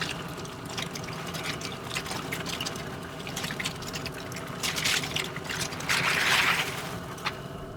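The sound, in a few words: sack of live Louisiana crawfish dumped into boiling pot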